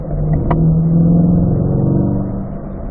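A car holding fourth gear on a race track lap during a performance driving school, its engine droning loud and steady with a sustained mid-pitched tone that eases slightly toward the end.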